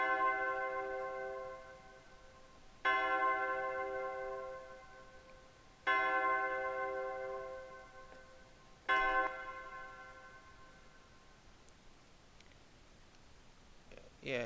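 A simple bell tone in an FL Studio trap beat rings out three times at even intervals, each strike bright and sharp before decaying slowly into near silence.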